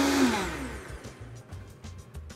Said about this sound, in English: we're gonna just pulse this together until it's well blended